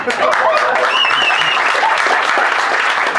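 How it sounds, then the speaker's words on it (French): A stand-up comedy audience in Switzerland bursts into loud, sustained applause that fills the room, with scattered cheers and voices mixed into the clapping throughout. "Vous applaudissez du caca là, hein."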